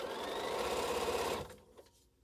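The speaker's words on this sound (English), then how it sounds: "So I can go ahead and sew this seam number 4." A sewing machine runs a fabric seam while piecing quilt string blocks, a fast steady mechanical whir for over a second before stopping abruptly, followed by faint handling sounds.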